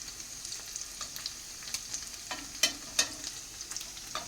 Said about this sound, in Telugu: ఇంత వేగితే చాలు ఈ పన్నీర్ ముక్కలు.